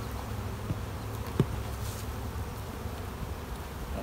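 Honeybees in an overcrowded hive, buzzing as a dense, steady, low hum that holds throughout at moderate level with no talk over it.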